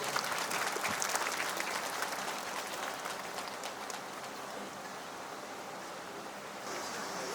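Crowd clapping at a 50th jubilee celebration of a community union in Dimapur, sustained broad applause that eases slightly then swells briefly again near the end.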